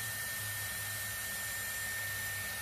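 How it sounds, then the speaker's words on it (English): A Dyson Airwrap long-barrel hair dryer running on its cold blast setting, a steady close airy whoosh with a faint high whine, continuous and unbroken. "I will do the cold blast by pushing my finger up."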